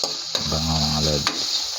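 Garlic, onion and tomato sauté in a pan with a bright, steady sizzle and a couple of stirring scrapes, close by, while a voice briefly speaks in the middle.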